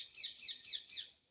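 Birds chirp in four quick, evenly spaced high tweets, faint and somewhat distant, with no voices present.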